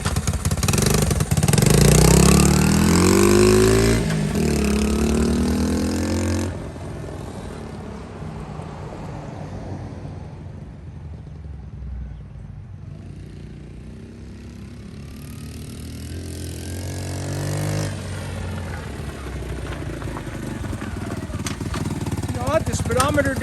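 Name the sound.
Honda Trail 70 motorbike engine running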